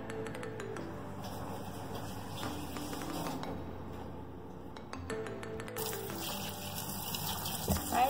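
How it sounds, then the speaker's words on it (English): Smoked herring from Canada is rinsed under running tap water, a quiet, continuous trickle and splash with a few faint clinks in the background. "So I'm going to wash them. This has to wash out."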